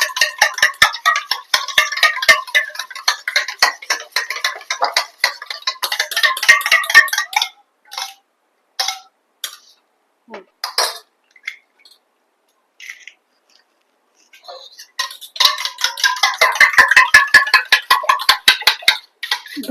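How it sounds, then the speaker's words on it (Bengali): Two eggs are whisked in a bowl for a rohu fish chop, a fork or whisk beating quickly and steadily in close, clicking bursts with a pause in the middle before the rapid beating resumes. "দুখানা ডিম দিয়ে ভালো করে ফেটিয়ে নিচ্ছি"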